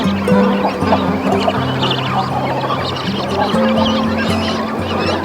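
Young cormorants call throughout a crowded breeding colony, a dense, loud chorus of overlapping honking and croaking voices with no pause.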